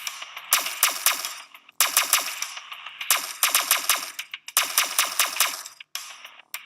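Rapid bursts of gunfire from a gun in a Unity video game, four loud sustained volleys of quick repeated shots separated by short gaps, with a brief fifth burst at the end and no talk.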